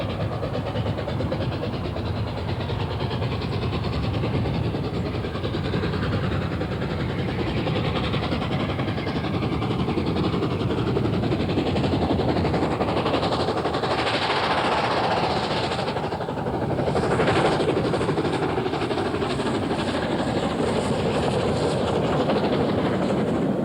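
Mallard steam locomotive climbs away from Skipton on the Settle and Carlisle line, a continuous loud rumbling roar of the running train with steady rail noise and no pauses.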